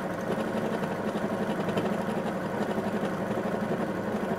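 A sewing machine runs steadily and close by, stitching the last gap shut in a fat quarter skirt, with a continuous whirring hum and rapid needle rhythm and no pauses.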